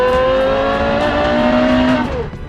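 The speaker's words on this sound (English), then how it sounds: "that's why we have the Carrera GT, which sounds like this." A Porsche Carrera GT V10 engine holds a high, steady rev close up, a sustained metallic wail that drops off sharply at the end.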